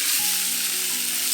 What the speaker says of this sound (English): Turn your tofu over and fry the other side.